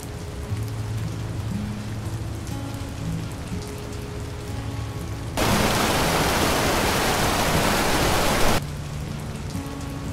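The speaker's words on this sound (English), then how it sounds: "Oh, it's a little leak under the stairs down there." Water leaks from under a set of stairs as a loud, steady rushing hiss that swells up suddenly, lasts about three seconds over a quieter indoor background, then drops away.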